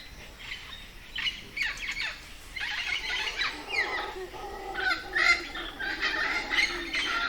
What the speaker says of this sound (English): Birdsong is best heard in the early mornings